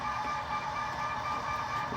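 An F3 model passenger train runs around a model railroad layout, a steady, fairly quiet mechanical whir with a faint high motor whine and light rolling clatter, no speech.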